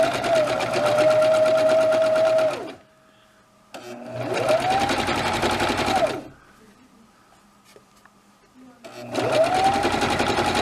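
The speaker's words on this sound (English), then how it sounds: "you're just going to simply zigzag down the line all the way around." Sewing machine zigzag stitching around faux fur fabric, a close, rapid whirring hum in three bursts of a few seconds each, separated by brief pauses.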